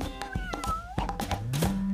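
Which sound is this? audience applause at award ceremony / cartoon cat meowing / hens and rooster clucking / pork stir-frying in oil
cartoon cat meowing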